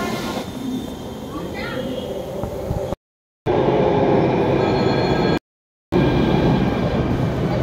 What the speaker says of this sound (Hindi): गाइज हम जा रहे हैं मेट्रो के द्वारा